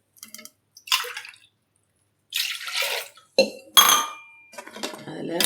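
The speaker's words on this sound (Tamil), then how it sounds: "2 டம்ளர் தண்ணி ஊற்றிக்கிறேன்" Water is poured into a pressure cooker for rice, sloshing and splashing in a few separate bursts with light metallic clinks of the pot between pours, close by in a home kitchen.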